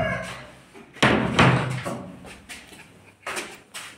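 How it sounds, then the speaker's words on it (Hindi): A door being closed on the way up to a rooftop, heard as a loud close thud followed by further knocks and rattles of the door and latch, in short irregular bursts. "दरवाजा बंद कर दूं"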